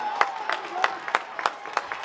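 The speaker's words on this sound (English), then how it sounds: "This crowd's starting to find some life here" A crowd at an NCAA women's soccer match between UNC and Tennessee claps in a thin, scattered way, with rhythmic claps heard at a distance under a murmur of noise.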